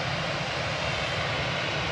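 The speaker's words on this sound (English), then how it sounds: "Lufty, flight 949, the night stopping A319, heading back to Frankfurt now" A Lufthansa Airbus A319 jet at Manchester Airport gives a steady broad engine roar, loud and constant without breaks.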